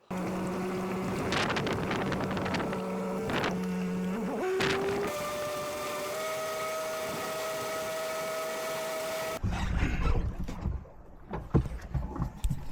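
A motorboat hums steadily across water with wind noise buffeting the microphone, then the engine cuts to rougher splashing and knocks near the end.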